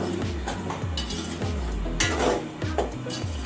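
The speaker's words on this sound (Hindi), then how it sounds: "इस तरह मुसलसल आपने चमचा चलाते रहना है और इसको रोस्ट करना है 5 से 10 मिनट तक" A spoon stirring semolina as it roasts in a pan for halwa, with rhythmic close scraping strokes against the metal, about a dozen in a steady back-and-forth, plus a light dry sizzle.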